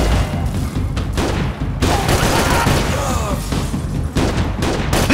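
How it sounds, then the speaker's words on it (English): Loud, dense gunfire in Max Payne 3, with overlapping bursts and heavy booming shots running almost continuously, broken by a few brief gaps, with a crowded, chaotic action soundscape. "That gun was going off on its own"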